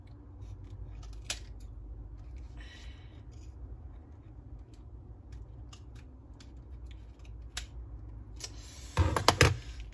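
Scissors snipping open plastic blind box packaging, a series of faint scattered clicks and short snips followed by a louder cluster of cuts near the end, close up in a quiet room.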